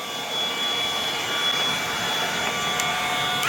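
A battery-powered Aoetree 20V jobsite blower runs steadily on a low setting, giving a continuous close whooshing hiss with a faint high whine throughout, with no speech.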